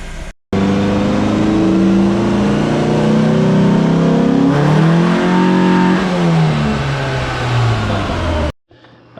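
A Dodge Neon fitted with a nitrous shot revs hard on a dyno, the engine note climbing steadily to about 3,500 RPM, loud and close, then falling away before cutting off abruptly.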